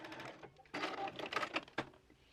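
A sewing machine stitches the elastic channel of a fabric skirt, a short close burst of whirring, rapid stitching that starts and stops, with no talking.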